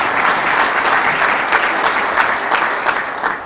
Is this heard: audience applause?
yes